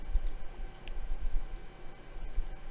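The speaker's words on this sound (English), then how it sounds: "right mouse click" Computer mouse clicks while software installs, a few soft, sharp ticks spread across a quiet stretch over low background hum.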